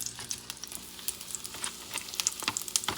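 Mushrooms and peppers sautéing in a little extra virgin olive oil, a soft continuous sizzle with scattered crackling pops, faint and close.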